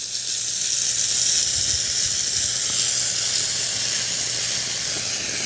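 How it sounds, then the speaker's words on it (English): Shark steam mop releasing steam for chemical-free floor cleaning, a steady, close broadband hiss that holds even and unbroken throughout with no voices. "We're getting steam coming out."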